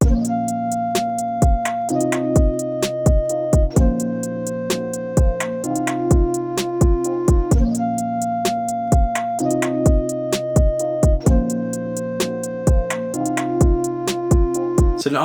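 A full trap beat with drums and kicks playing together: steady crisp hi-hats, booming kicks and a looping melodic layer, loud and continuous with no voices.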